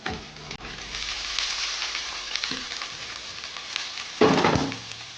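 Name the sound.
radish and potato frying in a pan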